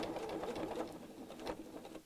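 A sewing machine stitches backwards and forwards across the same seam line with a quiet, rapid, rhythmic whirring patter that eases briefly as direction changes.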